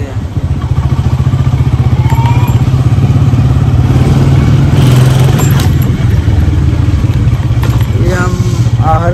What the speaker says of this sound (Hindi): आखिरकार ये कब्रिस्तान के बाहर पहुंच चुके हैं, ब्रेक लगाएंगे, बाइक वगैरह लॉक करेंगे